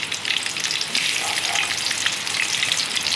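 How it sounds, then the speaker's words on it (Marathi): Chopped onion fries in a little hot oil in a kadhai, producing a dense, even crackling sizzle close up that holds steady throughout with no voices. "आता आम्ही याच्यामध्ये आपण कांदा टाकला आहे"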